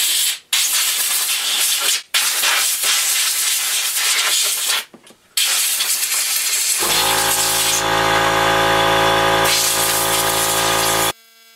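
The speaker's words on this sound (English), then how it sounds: "Okay, I'm trying to get like some air through here to blow through the screen." Compressed air blasts through the screen of a green Craftsman 6 hp self-propelled lawn mower. Loud, close hissing bursts are broken by short pauses, then a steadier tonal rush of air runs until it cuts off.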